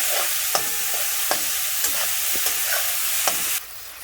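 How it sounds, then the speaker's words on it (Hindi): Steady sizzling of onion, garlic and capsicum sautéing in a hot pan for pav bhaji, with intermittent sharp scrapes and clacks of a spatula stirring, then a sudden drop in the hiss near the end. "सबसे पहले हम प्याज और लहसुन को सौते कर लेंगे।"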